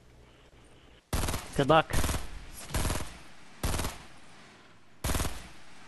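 Bursts of gunfire in the video game Fortnite, several loud close volleys with gaps between them, briefly overlapping a short spoken line.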